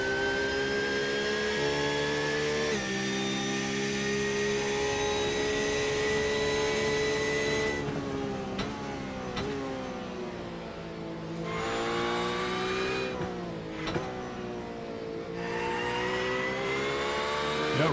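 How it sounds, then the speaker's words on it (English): A Porsche GT3 race car engine heard on board at Suzuka screams at high revs, climbing steadily through the gears with sharp drops at each upshift, loud and continuous throughout without talk. "Let's have a listen to the Porsche."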